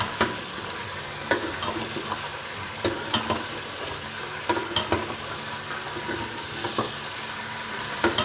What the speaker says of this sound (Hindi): में फ्राई कर रहे हैं ताकि चिकन की स्मेल जो है ना निकल जाए